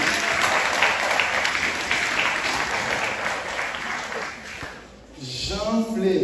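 An audience applauds at a graduation and diploma ceremony, a dense, sustained wash of clapping that fades out near the end, when a voice starts speaking.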